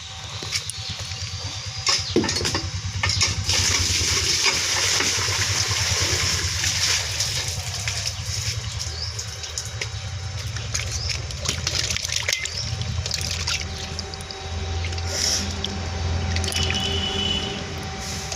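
Water splashes and trickles steadily over a heap of freshly caught puti fish, a continuous wet squishing and dripping close by, with the fish shifting in the wet pile throughout.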